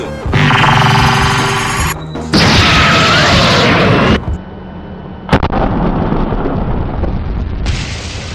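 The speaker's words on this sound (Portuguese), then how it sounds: "Bomba do capeta." Loud sound-effect bomb explosion bursts, several booming blasts with rumbling tails in succession, separated by brief drops, no talking.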